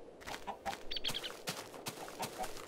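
Chickens in the Minecraft video game give soft, short clucks, several scattered in quick succession, faint and close with no talk over them.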